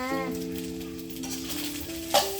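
Nasi goreng without chicken fries and is stirred in a pan at home, giving a faint, steady sizzle beneath a prominent tonal hum, with a brief louder scrape near the end.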